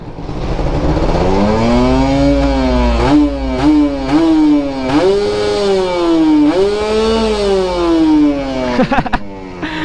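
A Kawasaki Ninja RR motorcycle on its stock exhaust revs up close and loud, rising and falling again and again in sharp bursts.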